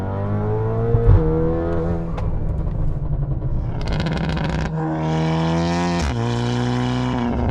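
A tuned 2015 Audi A3 roars loudly up close with its engine revving and exhaust droning. Brief sharp pops cut through the steady engine note, which shifts pitch partway through, with no talking.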